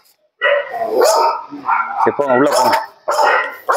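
A dog barks and yips in loud, close bursts beside a Madurai house where a cobra was found, while someone speaks over the barking.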